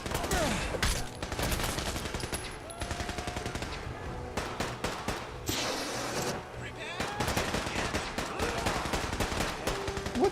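Dense, chaotic gunfire in Fallout 4 with Sim Settlements 2, as NPCs shoot at each other in a settlement. Rapid overlapping shots and bursts continue throughout, with some voices heard among them.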